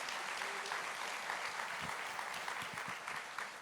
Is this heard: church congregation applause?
yes